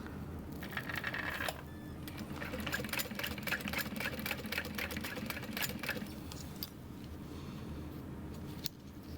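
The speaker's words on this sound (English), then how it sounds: "I'll just run one line of stitches." A sewing machine runs one line of stitches along folded backpack fabric, a fast rattling burr that holds fairly steady with slight pauses, recorded close and moderately quiet.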